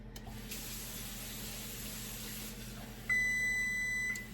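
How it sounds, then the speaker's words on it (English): A steady hiss, then a single sustained electronic beep from an oven lasting about a second before cutting off. "The oven's gonna beep in a second"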